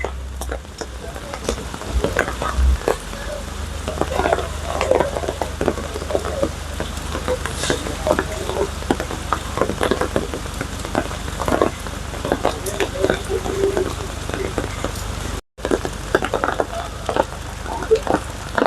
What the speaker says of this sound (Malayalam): ഡാമിൻ്റെ ആ വെള്ളം ഇങ്ങനെ മഴ പെയ്തുകൊണ്ട് നിൽക്കുന്ന ഒരു വ്യൂ ആണ്